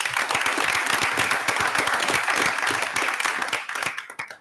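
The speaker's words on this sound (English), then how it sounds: "So big round of applause for them." A school board meeting audience applauds with brisk, crisp clapping, many distinct hand claps blending into a lively burst that holds steady, then thins and fades away over the last second.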